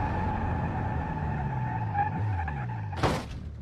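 A Volkswagen car in a brake test rumbles with a steady engine drone, then brakes into a short, harsh burst of tire skidding near the end before settling.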